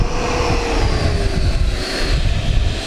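Hobbyzone F-15 RC jet with twin 64mm electric ducted fans, taxiing on grass: a steady, loud whine that continues through the whole stretch, with broadband rushing noise and a rising, shifting tone.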